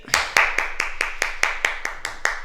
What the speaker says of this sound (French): Et on s'applaudit, les amis.